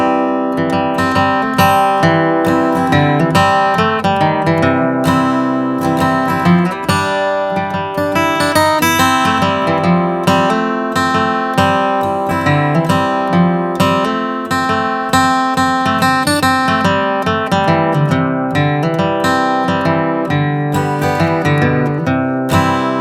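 Acoustic guitar playing an instrumental break of the traditional song I've Been All Around This World, a steady loud strummed and picked melody carried through without pause, close and clear, with no talk.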